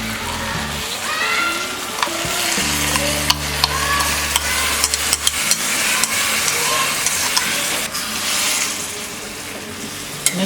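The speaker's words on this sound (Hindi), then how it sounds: "हमने चावल को भी 5 मिनट तक फ्राई कर लिया है।" Washed rice being stirred and fried with masala in a pan, with a steady sizzle and repeated scraping strokes of a spoon, close and clear, without speech.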